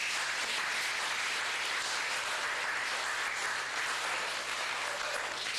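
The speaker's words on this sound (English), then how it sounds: "So let's give them a round of applause." A Cub Scout Blue and Gold Banquet audience gives dense, sustained applause that holds a steady roar of many hands clapping throughout, with no voices above it.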